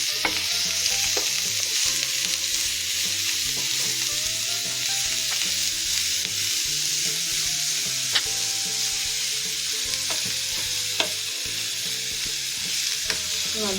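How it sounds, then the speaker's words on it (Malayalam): Carrot thoran fries in a pan under a steady, bright sizzle, with occasional clicks and scrapes from stirring throughout. "ഇനി ഇതൊന്ന് നമുക്ക് നന്നായിട്ട് ഇളക്കി കൊടുക്കാം."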